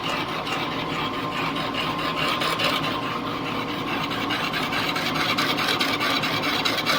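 A Clausing 8540 lathe cuts a bronze arbor bushing under slow, even feed, producing a continuous, steady scraping and rubbing with a fine ticking texture, close and loud throughout with no talking.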